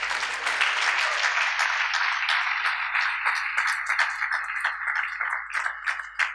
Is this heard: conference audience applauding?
yes